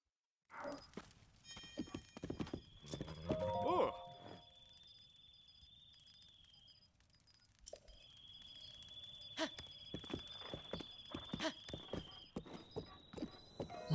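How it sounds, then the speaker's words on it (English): Hooves of a giant horse thud in a quick rhythm in Zelda: Breath of the Wild, with a short whinny early on, mixed with game effects and steady tonal sounds at moderate loudness. "Hunt for the giant horse complete."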